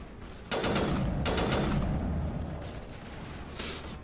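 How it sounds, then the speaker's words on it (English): Heavy gunfire from a sniper rifle in the Mass Effect video game bursts in loud and close, sustained blasts and booming reports followed by a lingering rumble as the shots fade. "I like this sniper rifle."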